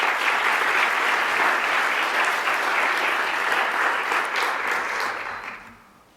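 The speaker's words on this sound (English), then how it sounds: "please help me give a big round of applause to the finalists" Sustained audience applause for the finalists at an HR legal-issues event, a dense steady wash of many clapping hands that holds for about five seconds before fading out.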